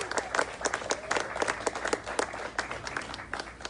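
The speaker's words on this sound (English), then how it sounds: "Let's give another round of applause for Mr." Audience applause at a 2021 graduation ceremony in a studio, a dense, continuous wash of many hands clapping at moderate distance, steady for several seconds with no talking over it.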